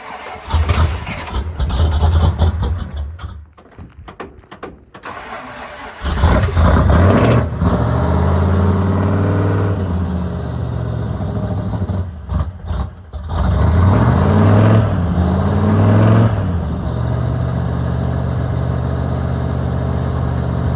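A project car with a new ignition cranks, catches and starts cold, then settles into a loud, uneven idle with brief revs rising and falling.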